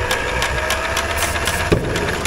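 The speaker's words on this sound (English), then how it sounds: "I'm just going to go ahead and hit it with some ether without the carburetor on there, and we're going to see if this thing pops." A 1960s Caterpillar pony engine, carburetor removed and fed ether, turns over and tries to fire in a rough, steady mechanical churn, loud and close, with one sharper pop near the end and no talking.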